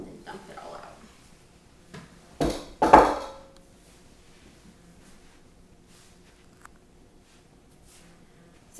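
Apple pie dough is dumped from a mixing bowl onto a cutting board, giving a couple of soft thuds and a scrape in a quiet kitchen after some brief talk.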